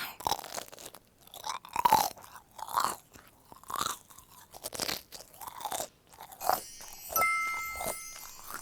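Crisp crunching bites into a snack with a crisp shell and soft marshmallow and jam filling, followed by steady chewing, close to the mic, with repeated crackly crunches and a faint light tinkle near the end.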